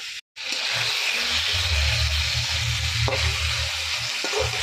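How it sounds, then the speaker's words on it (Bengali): Chicken mince frying in a pan, a dense, close sizzle after a brief silent gap at the start, with a low bubbling rumble beneath and a couple of soft spoon knocks. "বন্ধুরা কিমাটাকে কষাচ্ছি"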